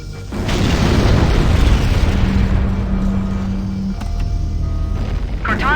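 Massive explosion of a starship's fusion reactors in Halo: Combat Evolved, a loud sustained rumbling boom lasting several seconds with a steady low tone, then a fading roar and a brief crackle near the end.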